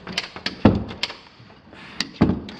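A few dull knocks and thuds of a laundry room door that doesn't latch being pushed shut without catching, spaced unevenly with brief rattles between them.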